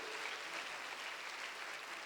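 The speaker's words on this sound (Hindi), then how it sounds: "लेकिन तालियों की ध्वनि सुनाई पड़ेगी।" Faint, even applause rises from an audience at a National Voters' Day event in 2016, a soft continuous patter heard from a distance.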